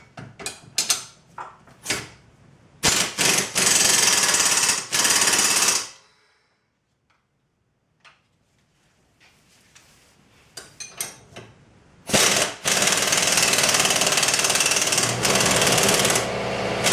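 An impact wrench running bolts down on a Dodge Stratus upper control arm and strut assembly held in a vise, loud rattling bursts, a quiet gap with light clinks, then a long sustained burst.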